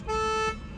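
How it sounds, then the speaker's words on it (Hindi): Hyundai Venue SX+ car horn giving one short, bright, steady honk of about half a second, close and loud, then cutting off to quiet background. "ऐसा कुछ हॉर्न है"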